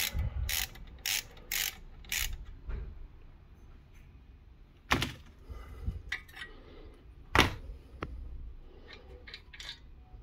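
A 17 mm open-end wrench works the brake caliper nut on a 2016 VW Sharan 7N2 during a front disc and pad change, giving quick bursts of metallic clicks and clinks, then a few sharp isolated knocks, close by with no talk.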